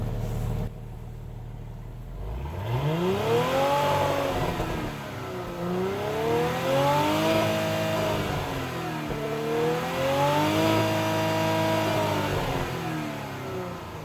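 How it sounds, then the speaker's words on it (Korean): Porsche Cayenne exhaust in sport mode, revved repeatedly from idle: three rising-and-falling throttle blips climb to a strong roar and drop back, loud and close, with no talking. "지금은 카이엔 머플러 사운드를 들어보셨고요"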